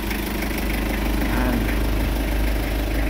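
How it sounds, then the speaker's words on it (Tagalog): A Mitsubishi 4D56 diesel engine, freshly overhauled, idles steadily with a deep, continuous rumble and throb, close by and loud, with no talking. "itong makina mo, umandar na po siya"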